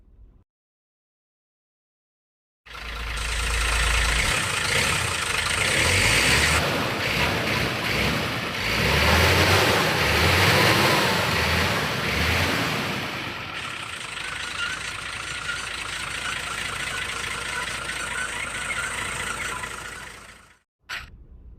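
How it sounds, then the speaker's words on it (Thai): A 2022 Hino FM8J ten-wheel, two-axle truck with a 260 hp engine and a 5.6-ton crane idles steadily, a loud, even engine drone holding for nearly twenty seconds with no talk. "เดี๋ยวมาฟังเสียงเครื่องกันนะครับ"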